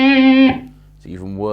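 Distorted electric guitar through an original Line 6 Pod amp modeler with the mids cut, a buzzy sustained chord that cuts off, a short gap, then a second gritty strum rising back in.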